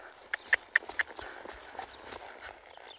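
Hoofbeats of a young horse under a rider, a few sharp irregular thuds on the ground close by as it is pulled around and pushed on, with a faint rustle between the steps.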